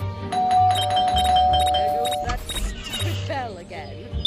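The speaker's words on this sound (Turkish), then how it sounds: "aşağı zil çalıyor görmüyor musun?" A tonal electronic doorbell chime in the game Scary Teacher 3D rings, then repeats with bright bell-like notes over game sounds, while people talk over it.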